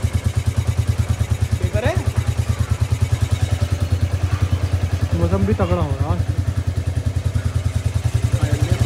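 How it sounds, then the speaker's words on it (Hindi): Motorcycle engine idling with a steady low throb and rattling clatter throughout, close up, while people talk over it outdoors. "बाइक तेरे से इतनी बड़ी है, इसे क्यों ले जा रहा?"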